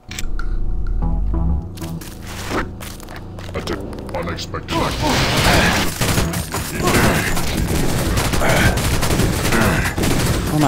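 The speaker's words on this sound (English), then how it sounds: "Barely taking any damage at all from all these shots I'm getting hit by" Gunfire hits the player in Deus Ex: The Nameless Mod: for the first half there are sparse sharp cracks between musical tones, then a dense, loud fusillade of rapid shots and impacts that keeps going, with some voice mixed in.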